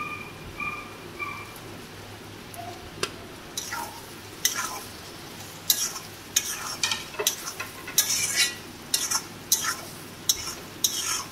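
Fried potatoes and pointed gourd are stirred into a sizzling spice masala, with a spoon scraping and clinking against the pan in quickening bursts over a steady close frying hiss.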